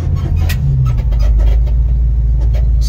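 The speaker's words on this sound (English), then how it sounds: "Motor runs good." A 1966 Ford Mustang convertible with fuel injection runs at a steady idle, a loud, close, even engine rumble with no talk over it.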